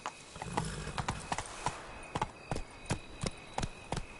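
Roach, the horse in The Witcher 3: Wild Hunt, gallops with sharp, rhythmic hoofbeats in a quick steady clip-clop that stays clear and close throughout.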